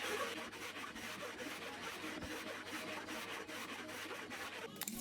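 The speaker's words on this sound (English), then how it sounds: "I started planing with my record number 5 hand plane with a freshly sharpened blade, and I'm just taking light passes" A freshly sharpened Record No. 5 hand plane takes light smoothing passes across a beech slab, giving a steady run of close, dry wooden rasping strokes that repeat in a quick rhythm with no voices.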